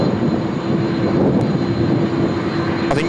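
General Electric CF6 jet engines on a Qantas Airbus A330 give a loud, steady roar with a droning tonal hum, close and sustained throughout, with no talk.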